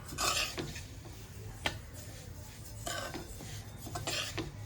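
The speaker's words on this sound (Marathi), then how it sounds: "आणि ढवळत राहायचे सतत आता हे मी भाजून घेते" Sesame seeds being dry-roasted over medium heat in a pot for til laddoos, stirred continually with a spoon that scrapes and rustles in repeated strokes, with light clinks against the metal and a soft background hum.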